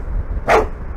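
One crisp, close bark from a man's companion dog in the Mountain of Shame survival game, a brief burst standing out over a low windy ambient background.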